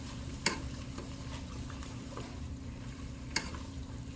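A chicken mixture is stirred in a pan over medium-low heat, with a soft, steady sizzle underneath and two sharp utensil clicks against the pan.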